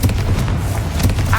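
Confringo fire spell blasting in Hogwarts Legacy, a dense, continuous booming burst with crackling bursts, loud and close, filling the whole moment without any voices.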